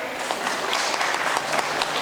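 A crowd at a school gathering of parents and pupils claps for a child who has just recited the Fatihah, a brief, dense burst of applause from many hands close by.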